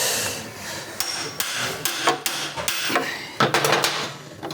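Light hammer taps while seating a part during clutch and starter freewheel replacement on a BMW K75 motorcycle; a handful of sharp, irregular metallic knocks, close and clear, with no talk.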